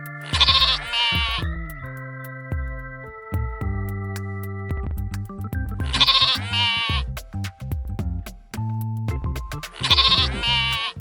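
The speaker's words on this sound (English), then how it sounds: "Congratulations, it's a little sheep." A young sheep bleats three times at even intervals, each cry loud and near, set against gentle background music.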